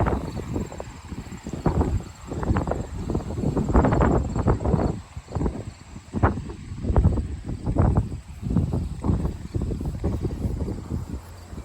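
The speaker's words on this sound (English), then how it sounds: "My heavens, it's windy out here." Gusty wind buffets the microphone outdoors, rising and falling in loud, rumbling bursts throughout.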